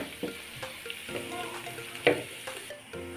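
Meat frying in a pan with turmeric added, a steady sizzle broken by scraping stirs and a sharper clatter midway, close and fairly loud with no voices.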